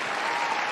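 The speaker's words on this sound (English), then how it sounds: "The crowd goes wild. Even skeletons are cheering for it." A live audience at a comics drawing challenge event erupts in dense, steady applause and cheering, the sound of many hands clapping together without a break.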